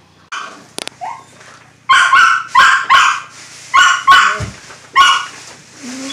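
A dog barks loudly and close by at a family Christmas gathering, giving about seven sharp barks in an uneven run, with a short whimper and a brief clatter near the start.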